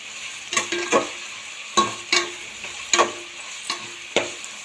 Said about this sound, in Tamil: பச்சை மிளகாயும் போட்டு நல்லா வதக்கணும்